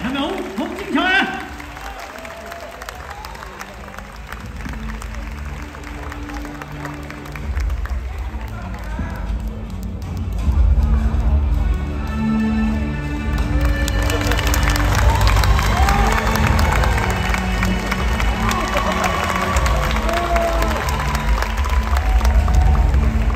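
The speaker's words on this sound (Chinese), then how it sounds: "请掌声双方拳手嚟" A crowd at a kickboxing match applauds both boxers. The clapping and cheering swell and fill the hall in the second half, with an announcer's amplified voice speaking over it.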